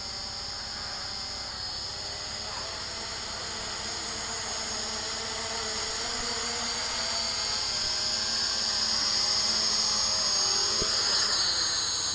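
A Hubsan X4 H502E brushed GPS quadcopter drone returns home and hovers over its landing pad, a steady high-pitched rotor whine and hiss that grows slightly louder as it comes closer, with no talking.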